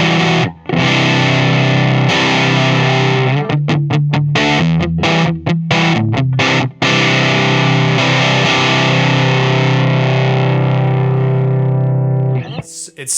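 An electric guitar plays through an EarthQuaker Dirt Transmitter fuzz pedal, with loud sustained distorted chords broken by quick choppy strums and stops, shifting between lighter and harder attack before ringing out.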